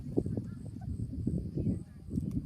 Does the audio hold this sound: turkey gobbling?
yes